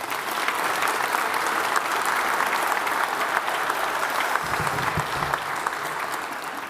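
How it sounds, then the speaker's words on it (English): An audience breaks into sustained applause in a hall, a steady wash of many hands clapping at a constant level throughout, with no speech on top. "Big round of applause."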